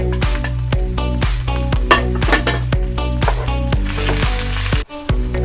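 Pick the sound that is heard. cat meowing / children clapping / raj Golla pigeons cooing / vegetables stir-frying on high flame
vegetables stir-frying on high flame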